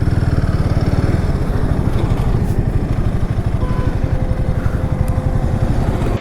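A motorcycle on a long off-road tour sits idling close by after pulling up at a roadside juice stop, its engine thumping in a steady, loud, uneven rhythm the whole time with no talk over it.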